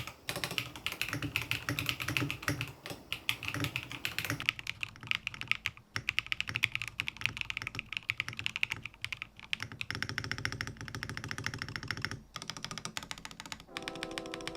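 Fast, continuous typing on a QK101 top-mount mechanical keyboard with Matcha keycaps and no foam, dense close clacks in a steady run with brief pauses, no talk.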